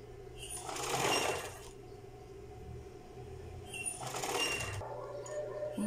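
Sewing machine stitching bias binding onto panty leg openings, two short bursts of rapid mechanical whirring over a low room hum, fairly quiet and close, with no speech over it.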